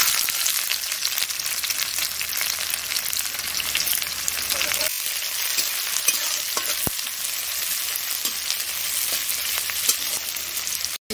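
Dried red chillies, five-spice seeds and chopped onion crackle in hot oil for a village-style tempering, a dense, constant close sizzle running without pause for about eleven seconds.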